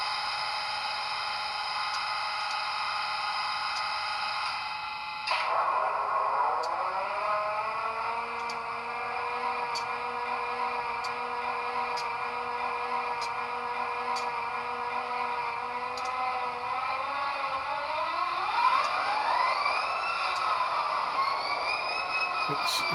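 Kato HO scale model locomotive playing engine sound through a Loke speaker: a steady diesel-like drone with a tonal hum that rises as the throttle comes up around midway, with faint periodic clicks throughout.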